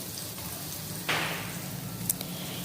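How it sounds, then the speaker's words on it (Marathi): Bombay duck fish coated in rice flour and semolina fry on a griddle, giving a steady close sizzle that swells briefly partway through, with a couple of small sharp ticks near the end. "इथे छानपैकी आपले बोंबील फ्राय होत आहेत"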